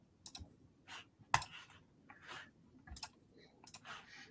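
Keys pressed one at a time on a computer keyboard while using embroidery software, sparse sharp clicks at irregular intervals, close and fairly quiet against a faint background.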